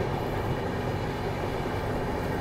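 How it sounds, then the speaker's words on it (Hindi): Delhi to Jaipur double decker express train rolling past near a railway crossing, with a dense continuous rumble and clatter of wheels on track, loud and close. "ट्रेन आ रही है इसी फाटक से"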